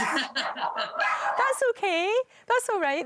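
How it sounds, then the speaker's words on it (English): A household dog barks during a live television video call, a few sharp barks mixed in with close conversation and a laugh. "Sorry, that's the dog."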